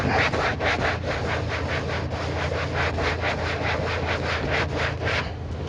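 A cloth is rubbed back and forth over carpet to lift dog hair, a close, steady, rhythmic scrubbing with regular strokes throughout and no talking.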